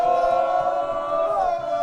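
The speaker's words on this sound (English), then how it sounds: "The jeers from the Goshen crowd" Football crowd at a Goshen City FC versus Michigan Rangers FC penalty shootout, a dense sustained roar of many voices with jeering tones, loud and continuous with no talk on top.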